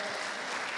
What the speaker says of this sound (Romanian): Aplauze pentru familia Maricescu